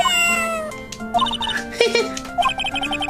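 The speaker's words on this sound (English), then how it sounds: "Let's find Shoo, the kitty cat." Cat meows in the Phoenix Wright: Ace Attorney video game, several short tonal cries over a steady game music bed, fairly loud and close.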